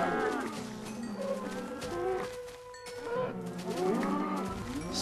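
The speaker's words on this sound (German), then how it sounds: "da haben wir noch ein paar große Kühe" Cows lowing in Minecraft, with several long drawn-out moos one after another, close and clear, and a short quiet gap partway through.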